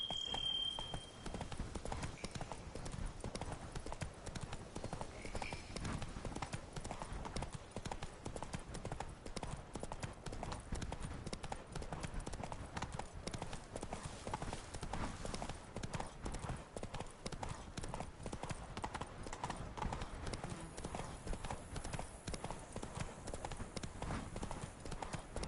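Roach, a horse in The Witcher 3: Blood and Wine, trots along with a steady, even clip-clop of hooves, fairly quiet and continuous throughout, with no voices over it.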